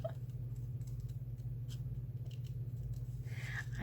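Scissors snip around a cut-out picture for a paper collage, making faint, quick, irregular clicks and rustles over a steady low background hum, with no voices.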